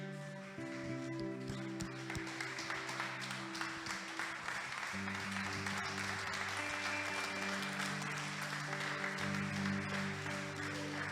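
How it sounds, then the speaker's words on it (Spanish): Churchgoers clap loudly and continuously, a sustained wash of applause carrying on throughout alongside background music. "vamos a dar un aplauso fuerte a Jesús."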